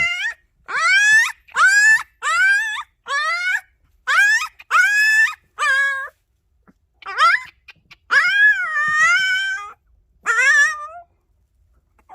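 A dark tan puppy in a litter lets out a run of repeated high, wavering yelps and whines, loud and close, in separate bursts with short pauses between them.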